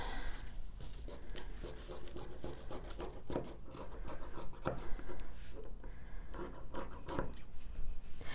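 Scissors snipping and scraping through paper and fabric while a dress pattern piece is cut out, close up, a dense run of rasping cuts with faint talk underneath.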